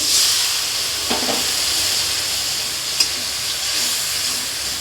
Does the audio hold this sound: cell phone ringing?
no